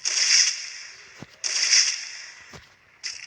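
Gunfire in a video game: bursts of rapid shots, with sharp single cracks between them and a short final burst. Moderately loud, with no talking.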